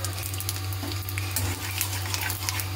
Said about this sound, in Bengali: তেল তো গরম হয়ে গেছে, এর মধ্যে দিয়ে দেবো পাঁচফোড়ন